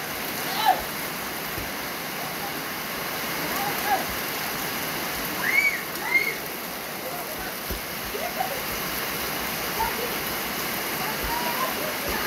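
Rain pours steadily during an evening football match played in the wet, a dense continuous hiss of falling water with faint distant voices and occasional splashes rising briefly above it.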